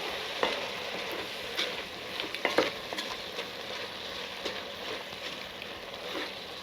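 Chili with chili seasoning for burnt ends being mixed in a pot, a steady scraping stir with soft sizzling underneath and a few louder scrapes, close and moderately quiet, no talking.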